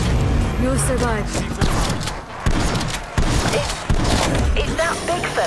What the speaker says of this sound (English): Is that big fella equipped with an actual cannon?